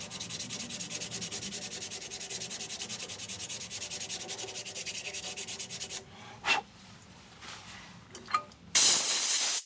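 Sanding a wooden burl blank for a shaving brush, a steady close abrasive rubbing hiss for about six seconds, then quieter scattered scrapes and a louder hissing burst at the end.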